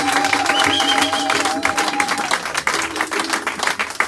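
A church congregation breaks into loud, sustained applause with scattered cheers, dense clapping filling the room close by, with a few voices rising over it.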